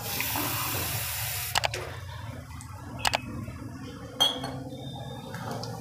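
Water poured from a glass into flour for Rajasthani bati dough, a steady close pour at the start that stops, followed by a few sharp clinks of metal utensils against a bowl.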